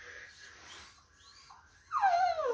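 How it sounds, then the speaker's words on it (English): A dog whining indoors with soft, thin whimpers and breathy sounds, rising to a louder, sharper whine near the end. "There's a dog whining."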